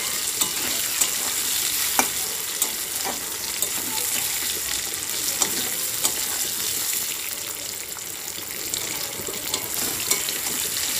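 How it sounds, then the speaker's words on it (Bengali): Potatoes with whole cumin frying in hot oil in a wok for mutton curry, a dense steady sizzle broken by frequent sharp spatula scrapes and taps. "আলুটা লাল লাল করে ভাজা হয়ে গেছে"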